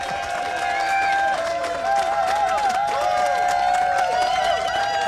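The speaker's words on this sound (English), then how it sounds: "What a marvellous unsolicited cheer that was" A large outdoor crowd at CarFest cheers and applauds loudly for Rob Brydon, a steady roar of clapping and shouts that holds its level. Whistles and raised voices rise above it throughout.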